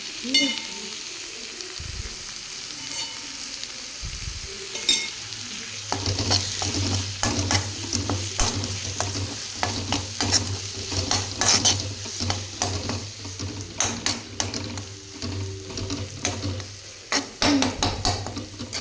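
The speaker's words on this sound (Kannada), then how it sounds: "ಮೊಸರು ಹಾಕ್ಕೊಳ್ಳೋಣ ನೋಡ್ರಿ. ಮೊಸರು ಹಾಕ್ಕೊಂಡ್ರಿ." Mutton sukka with curd added sizzles and fries in a pan, with steady loud frying and repeated stirring and scraping of a utensil against the pan, close up and with no talk.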